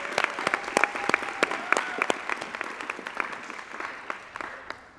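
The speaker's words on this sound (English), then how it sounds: "can we have a round of applause for our graduates this year" Applause rises from the audience for graduates of the 2025 Kazen Fellowship Program at their graduation ceremony, a dense patter of clapping that is sharp and strong at first, then gradually thins and fades over five seconds.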